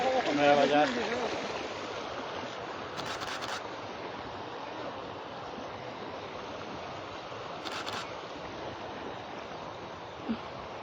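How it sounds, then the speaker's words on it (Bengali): Floodwater flows across the Gowainghat–Salutikar road near Sylhet as a steady broad rushing wash, continuous and moderately close, with a brief voice at the start and a few faint knocks. "সড়কের উপর দিয়ে গোয়েনঘাট শালটিকা সড়কের উপর দিয়ে আসলে পানি প্রবাহিত হচ্ছে"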